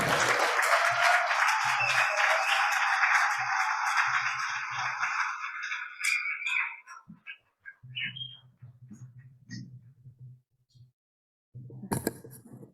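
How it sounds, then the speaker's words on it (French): At the closing of Quebec's second mycotourism summit in 2023, an audience applauds in a dense, sustained wash of clapping that fades away after several seconds, leaving faint scattered sounds and a low murmur. "Une bonne main d'applaudissement pour Pascal Malenfant."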